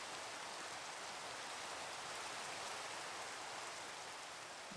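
Rain pours steadily in Minecraft, a dense, uninterrupted hiss of falling drops heard alone with no voices.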